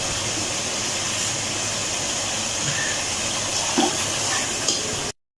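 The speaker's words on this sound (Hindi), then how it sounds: "दही वाली प्याली के अंदर ये पानी डाल के इसको साफ कर लिया" Water poured into a bowl that held yogurt to rinse it out during cooking, a steady close splashing flow of liquid lasting about five seconds before stopping abruptly.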